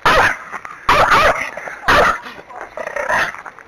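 A small rescue dog barks in three sharp, loud bursts up close, then gives softer yips and whimpers.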